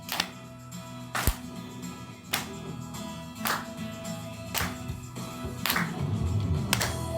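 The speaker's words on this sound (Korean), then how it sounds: "박수!" Sharp claps keep a steady beat about once a second at a children's church Sunday worship service, clapping along over a quieter music bed with no talking.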